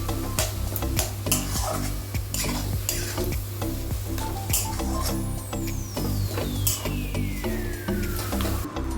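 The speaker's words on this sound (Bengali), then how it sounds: "ভালো করে নেড়ে শুকনো শুকনো করে নামিয়ে নেব" Suji upma is stirred in a pan with repeated close scraping and clinking of a spoon against the metal over a soft sizzle, steady strokes throughout with no voices.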